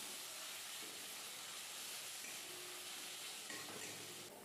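Small puti fish frying with chili, coriander and turmeric powder in a pan, giving a steady, quiet sizzling hiss that holds evenly throughout, with a faint scrape near the end.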